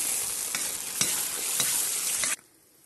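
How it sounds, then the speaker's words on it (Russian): Cream and egg stirred into a kazan over a campfire, a steady broadband sizzle with a few scraping strokes of the spoon, close and fairly loud, cutting off abruptly near the end. "Далее отправляем сливки с яйцом сюда же в казан. Все перемешиваем."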